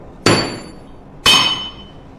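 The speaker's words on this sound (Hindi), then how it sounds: "ये मेरे हाथ में हथौड़ा है, तीनों को मारेंगे।" A hammer strikes hard objects twice, about a second apart, each blow a loud sharp crack with a bright ringing tail that fades slowly; no one speaks.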